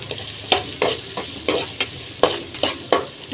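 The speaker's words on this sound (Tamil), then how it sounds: "கடுகு போட்டாச்சு, வெங்காயம் கருவேப்பிலை போட்டாச்சு, கருவேப்பிலை பச்சை மிளகா போட்டாச்சு. இப்போ நல்லா வதக்கலாம்." Onions, curry leaves and green chillies fry in a pan after mustard seeds, a loud sizzle broken by regular scraping stirs about every third of a second, close and alone.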